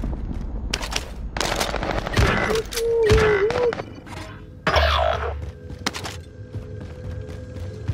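Rapid machine-gun fire and bursts of gunshots in the Call of Duty: Modern Warfare video game, loud and close, in repeated volleys with brief pauses between them.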